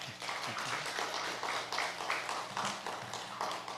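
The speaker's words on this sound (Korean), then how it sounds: "여러분 축복의 박수 한번 뜨겁게 해주시면 좋겠습니다." Church congregation at a Sunday service clapping in blessing for a member's birthday, a quiet, fairly even patter of many hands heard from a distance in a reverberant hall.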